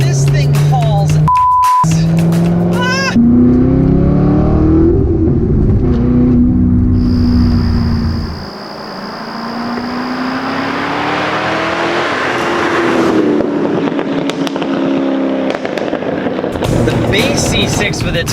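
Chevrolet Corvette C6 Z06 V8 revving hard through rising gear pulls, a loud roaring engine with sharp shifts and a brief dip before climbing again, with people talking over it.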